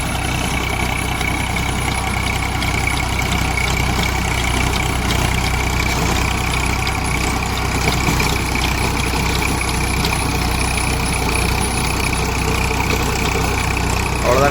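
A Massey Ferguson MF 241 tractor engine runs steadily while pulling a 510 cultivator in a field, a constant loud low drone that holds throughout with no breaks.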